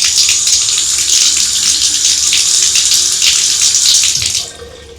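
Bathwater rushes and gurgles down a bathtub drain, leaking past a faulty stopper, a loud continuous hissing flow heard close up that cuts off abruptly near the end.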